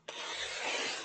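Scissors slice through a paper file folder at the fold in one quick, close, dry rasping cut lasting about a second, with a faint snip at the end.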